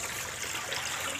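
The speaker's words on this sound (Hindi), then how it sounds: "पानी अभी मम्मा फेंक रही है" Water is thrown out by a mom at a home tap, giving a short, steady splashing rush that continues without pause.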